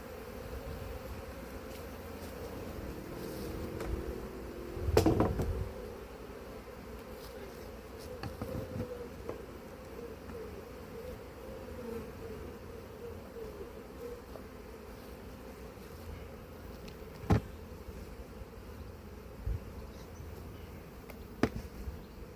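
Honeybees buzz around hives at an apiary, a faint, steady drone of many insects with occasional nearer bees passing close and brief knocks and clicks of hive handling.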